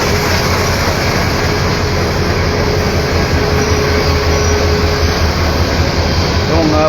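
A train waits at platform 7 of Kamalapur railway station in Dhaka with a 2719 series locomotive attached, its engine producing a steady, loud low rumble and broad station noise for the whole stretch, with no clear speech.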